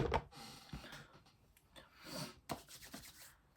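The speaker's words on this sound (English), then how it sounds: "I don't know why I'm sniffling so bad" Several short, wet nasal sniffs come at irregular intervals, close and fairly quiet, with soft rustling between them.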